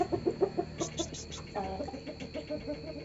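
Several chickens cluck in quick rhythmic bursts nearby on a poultry farm, with softer clucking and background farmyard noise continuing afterward.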